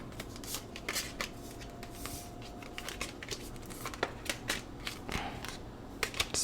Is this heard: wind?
no